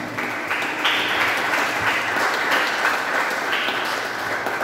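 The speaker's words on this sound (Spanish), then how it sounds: "Un fuerte aplauso." Audience applause fills a graduation ceremony for a discipleship program in Caobal, Copán, Honduras, a steady wash of many hands clapping at an even level from start to finish.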